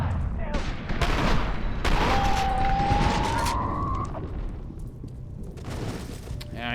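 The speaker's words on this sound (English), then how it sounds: "Oh, that was an assault rifle." Assault rifle fire in the shooter F.E.A.R. 2: Project Origin crackles in loud, close bursts over a dense rumbling battle bed, with a rising whistling tone sweeping through the middle.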